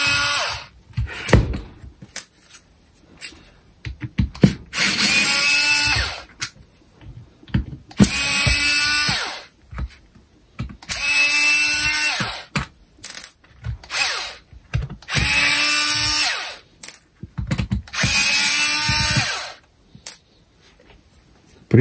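A DCA ADPL04 cordless screwdriver runs in five loud, close bursts of steady motor whine, each lasting a couple of seconds. Clicks and handling knocks fill the gaps between them.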